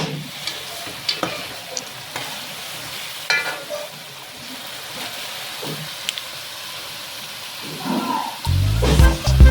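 Condiments for a roasted peanut sauce frying in a pan, a soft continuous sizzle with occasional scrapes and clicks, ending in a louder burst of handling noise.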